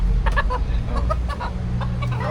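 Chickens cluck in short repeated bursts, close by, over a low rumbling background hum.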